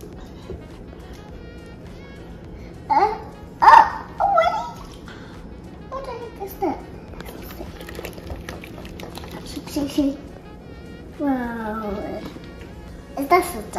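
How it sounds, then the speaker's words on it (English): A toy dog from a bath bomb lets out a few short, quiet yelps and whimpers over soft bubbling water, with a clearer bark near the end. "Is that a dog?"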